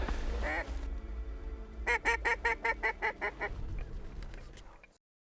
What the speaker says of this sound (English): We just had a first bunch of morning mallards